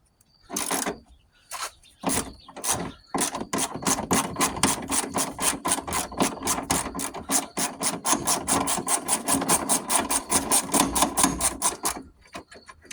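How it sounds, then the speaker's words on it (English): A socket wrench on a stuck bolt gives a rapid, steady run of close ratcheting clicks as the bolt breaks loose, then stops abruptly near the end. "Pop the socket on. Give her a tug. You can hear it breaking loose."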